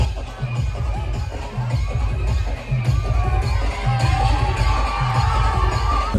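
A crowd at a village yatra festival cheers and shouts continuously over a thumping drum beat, loud and lively with overlapping voices.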